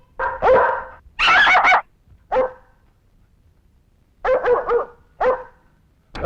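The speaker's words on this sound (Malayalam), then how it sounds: "പട്ടിയെ പിടിച്ചേ" A dog barks in short bursts, a quick run of loud barks, a pause, then another cluster of barks and one more at the end, close by.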